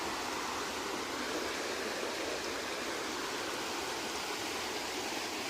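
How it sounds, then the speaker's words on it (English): Steady, even rushing of the Kleine Emme river, a constant broadband flow of water with no breaks, no voices. "we just arrived on the Emme. It's a beautiful river"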